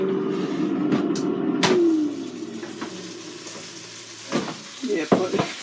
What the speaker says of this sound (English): my chicken has been air frying for 15 minutes at 400 degrees Fahrenheit